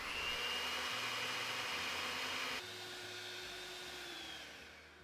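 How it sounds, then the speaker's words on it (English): An electric hand mixer whipping cream to stiff peaks for a Nutella chocolate mousse, a steady whirring hum that drops in pitch and level partway through, with no one talking. "Mix your whipping cream until it forms stiff peaks."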